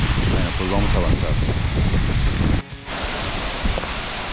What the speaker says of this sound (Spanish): Pues estoy prácticamente abajo de la cascada.